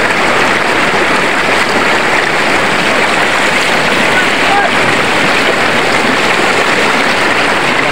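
A steady, loud rushing roar of fast-flowing river water, continuous and close, with no pauses.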